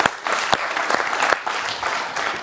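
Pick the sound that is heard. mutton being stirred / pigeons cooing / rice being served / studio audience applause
studio audience applause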